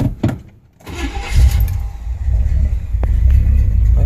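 A 1969 Chevrolet Impala engine cranks briefly, catches and rises into a loud, close, rumbling idle that carries on steadily to the end.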